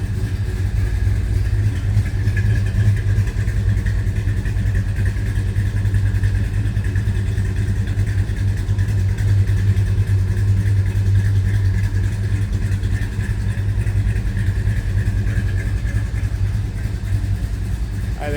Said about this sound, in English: That exhaust note puts a smile on that bee's face.